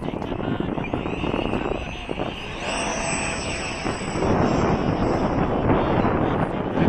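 A model F-4 Phantom jet takes off in windy conditions, its engine whine rising over gusty wind rumble and growing louder toward the end.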